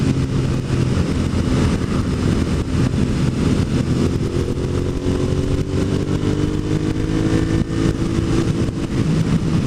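Motorcycle engine pulling hard out of a corner on a cold, windy day, a loud, continuous drone whose pitch sweeps steadily upward as the rider opens the throttle, with wind rush across the whole stretch.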